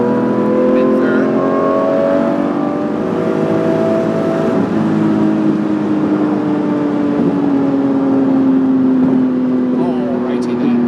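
A Lamborghini engine drones and rises in pitch while driving, then drops as it downshifts, heard from inside the car with steady road rumble and people talking over it.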